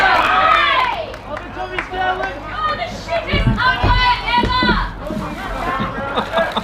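A crowd at a suburban Australian rules football game, Adelaide Footy League Division 1 with Old Ignatians against Glenunga Rams, cheers and claps in a loud, steady swell of voices and chatter, with scattered bursts of noise.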